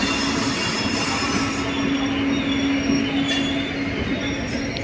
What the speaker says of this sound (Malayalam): 39257 ജാംനഗർ തിരുനെൽവേലി എക്സ്പ്രസ്.